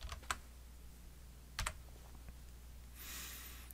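Typing on a computer keyboard at a desk, a few quick key clicks in short bursts with quiet gaps between them, close and fairly faint, with no talking.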